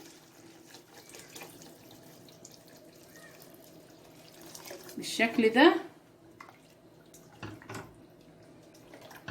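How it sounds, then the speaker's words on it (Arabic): Water pours briefly into a pan with a splashing gush for a second or two, under a quiet voice and faint kitchen background, while cooking catfish. "معانا كده شفشق ميه بقى هننزل كده بيه"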